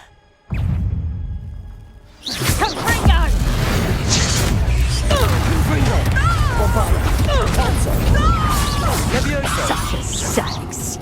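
A Confringo fire spell explodes in the Hogwarts Legacy video game: a sudden burst lands after a brief quiet, then loud, sustained crackling, whooshes and layered effects roll on beneath shouting and game music.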